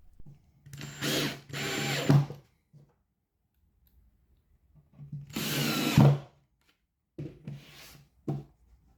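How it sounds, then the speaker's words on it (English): A countersunk drill bit bores into a timber slot car race track in three separate bursts: two back-to-back at first, a longer one after a pause, then shorter whirs toward the end, with a sharp click as each cut ends. "I use a countersunk drill piece which also drills the hole"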